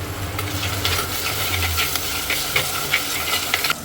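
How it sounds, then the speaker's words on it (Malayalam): Fried onions and tomato are stirred in a hot pan, a constant sizzle with repeated scraping strokes of the spoon close by. "സവാള ഗിരിഗിരി മൂത്ത് വരുന്ന സവാളിക്ക് തക്കാളി ഒന്ന് ആഡ് ചെയ്ത് കൊടുത്തു ഇത് നല്ലോണം ഇളക്കി കൊടുക്കുക"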